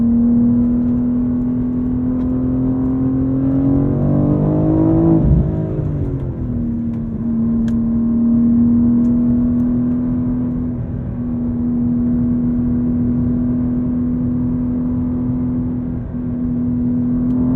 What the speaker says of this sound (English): How this car balances precision and eagerness is incredible.